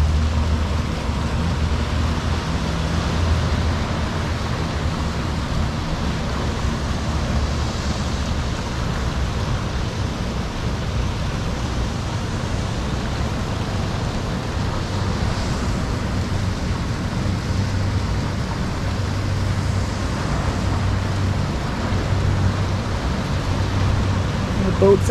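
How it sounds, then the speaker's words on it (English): Ocean surf heard from a hotel balcony in Cabo, a steady, even wash of waves with a broad hiss and low rumble that runs unbroken throughout, with no voices over it. "we just woke up to this, the sound of the ocean."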